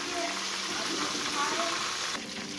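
A pork chop sizzles loudly in a frying pan as it is flipped, a steady close crackle and spatter that eases slightly near the end.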